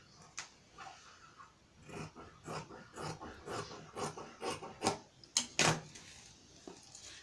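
Quiet scissors cutting fabric for a pin cushion, a run of short snipping and rustling strokes close by that quicken toward the end, with no voice.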